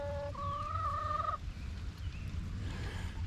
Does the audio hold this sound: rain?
no